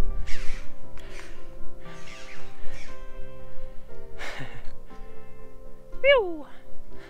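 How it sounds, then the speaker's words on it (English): Crows caw and squawk in short bursts from up close on a nature walk, with breathing and a person's voice mixed among the calls. "The birds are making funny sounds because I'm up here."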